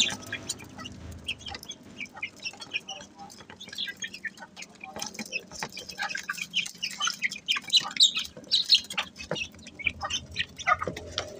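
Several bantam chickens cluck and chatter continuously at close range, their calls growing busier toward the end, with some talking mixed in.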